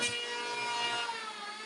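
Workers trimming a plywood main door, a single continuous rasping scrape of a tool across wood, close and fairly quiet, with no talking.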